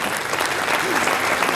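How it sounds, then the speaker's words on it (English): Steady applause from an audience fills the whole stretch, a dense even clatter of many hands clapping with some crowd murmur underneath. "round of applause for Al and Larry."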